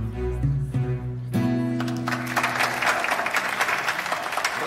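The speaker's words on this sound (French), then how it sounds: "On applaudit bien fort la chorale de Fort Prix." An audience applauds a choir at a music school show, the clapping swelling in after a fading sustained musical chord and then continuing as a dense, lively wash of many hands.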